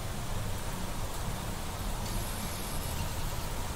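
Steady rain falls in Planet Crafter, a dense even hiss of drops at constant moderate level with no voices.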